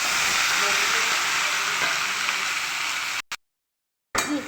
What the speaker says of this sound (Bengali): ভালো করে সব ভেজে নেব।